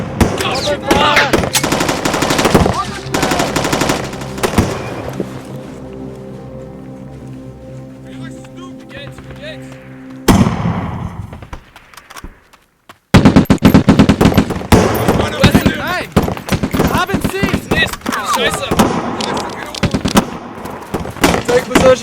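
Machine gun fire in a 2007 war feature film: dense bursts of rapid, loud automatic shots with blasts, then a quieter stretch with a low tonal hum and a brief dropout, then more heavy gunfire.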